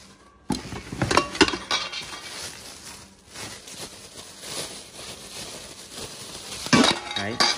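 A six-piece cooking pot set is handled and unpacked, with repeated metallic clinks, clanks and knocks of pots and lids. The impacts are close and irregular, with some busier bursts near the start and end.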